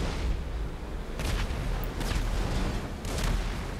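Airplane explosion in GTA V, heard as a few deep, rumbling booms and blasts spread across the clip, loud and noisy with a steady low roar between bursts.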